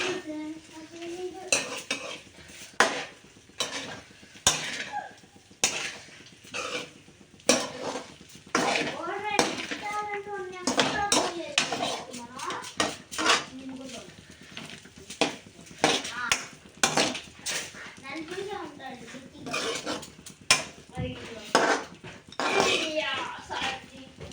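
Egg fried rice being stirred and tossed in a pan, with repeated scraping and clinking of a spatula against the metal, a faint sizzle underneath, while a person talks throughout.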